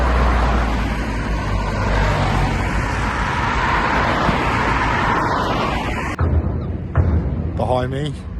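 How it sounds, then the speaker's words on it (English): Cars driving onto the Torpoint chain ferry, a loud broadband vehicle and engine rumble that cuts off abruptly, followed by someone speaking close by. "Behind me are the Torpoint chain ferries. You see they're loading up cars right now."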